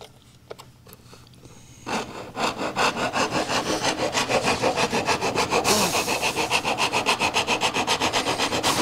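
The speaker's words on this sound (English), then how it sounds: "I can use a rasp, which is essentially a file for wood, to go in and" Rasp filing wood on a workbench, a steady run of rhythmic back-and-forth strokes close up and loud, after a couple of seconds of quieter handling noise at the start.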